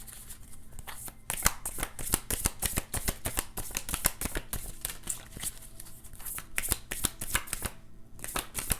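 Tarot cards are shuffled by hand nearby in a quick, continuous run of crisp riffling snaps and flicks that keeps going for several seconds with hardly a pause.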